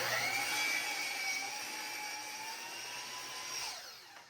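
A power saw cutting scrap wood for a DIY Christmas project, a steady high whine with a tonal hum that holds through the cut and winds down at the end, close and continuous.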